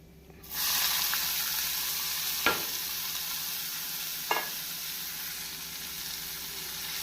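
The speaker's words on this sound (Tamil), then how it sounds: "கடுகு பொரிந்ததும் நாம் நறுக்கிய வெங்காயத்தை போட வேண்டும்." Oil with popped mustard seeds erupts into a loud sizzle as chopped onions hit the pan, then keeps frying steadily, with two stirring scrapes along the way.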